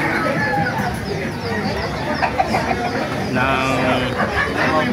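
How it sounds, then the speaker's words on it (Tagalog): Chickens cluck and squawk intermittently amid a busy, noisy background with people talking nearby, under a roof at an indoor market on a rainy day. "May mga manok dito"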